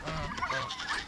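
A farm turkey gobbles in a quick, warbling burst, close and fairly loud, with no talk over it.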